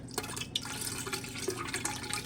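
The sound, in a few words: water pouring into Berkey water filter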